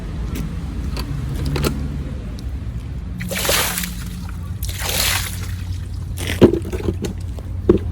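Water is poured and rinsed over an alloy wheel in a few separate bursts of splashing and sloshing, close by, between quieter stretches with a faint engine-like hum and no talking.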